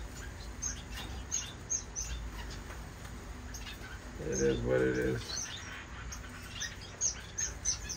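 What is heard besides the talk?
parrot finches and Gouldian finches chirping in a bird room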